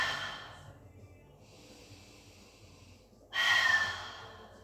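Slow breathing during a pilates mat exercise, a soft drawn-out breath followed by a louder, sharper exhale close to the mic.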